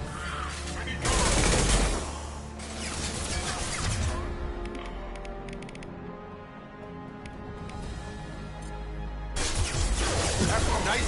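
Bursts of rapid automatic gunfire in the video game Mass Effect 2, loud crackling volleys at the start and end with a rumbling battle din between, under game speech and effects.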